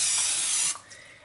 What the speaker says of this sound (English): you just need to give this little maker a little spray